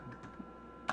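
A few light keystrokes on a computer keyboard, sparse and quiet, with one sharper click near the end and no talking.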